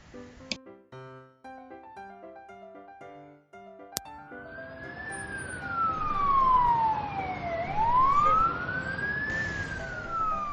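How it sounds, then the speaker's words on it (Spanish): An ambulance siren wails in a sweeping up-and-down tone, rising in loudness as it passes, following a short run of music and a sharp click. "ambulancia"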